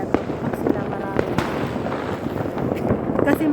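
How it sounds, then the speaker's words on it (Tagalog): New Year fireworks and firecrackers crackle and pop continuously on a clear night, dense overlapping bursts that sound mid-distance, with background voices talking over the barrage. "Grabe talaga yung mga fireworks talaga."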